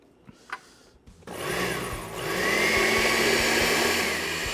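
A kitchen blender starts up and runs steadily, whirring loudly as it purées jerk sauce with cilantro for Jamaican jerked sea scallops; after a few faint clicks the motor kicks in and its pitch rises and holds.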